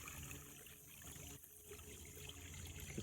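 Pumped water pours into a septic distribution box, a continuous splashing trickle and rush, steady and close, with no voices.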